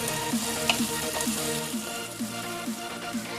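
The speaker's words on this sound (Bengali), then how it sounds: "সামান্য একটু নুন, সামান্য একটু হলুদ দিয়ে 2 মিনিট আমি ভেজে নেব" Potatoes frying with salt and turmeric in a pan give a steady, close sizzle, with regular soft scraping strokes of stirring about twice a second.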